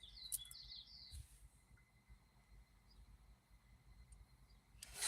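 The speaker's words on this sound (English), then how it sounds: "I don't know if that's an owl or if that's like a mourning dove" An owl or mourning dove calling outdoors, heard as a few faint, distant call notes over a quiet background.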